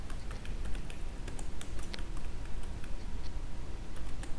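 Soft, rapid keystrokes on a computer keyboard patter continuously over a faint background hiss, close but quiet, with no voice.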